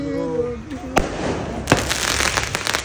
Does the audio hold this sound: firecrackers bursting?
yes